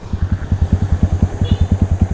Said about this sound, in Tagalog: Ramdam ko yung hila nitong motor ng tropa natin, Barako 175